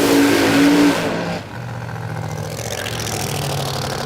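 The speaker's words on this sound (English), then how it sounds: "Russell Pavey in the 63 Corvette, they're going through the burnout procedure" A 63 Corvette drag racing car at Willowbank Raceway in Australia roars through its burnout, loud sustained engine noise that dips briefly before building again, heard at a distance.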